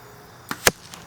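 A field-tip arrow strikes a foam target block from 20 yards: a faint release snap, then one sharp, fairly loud thwack of impact, followed by a small trailing tick, with nothing in between.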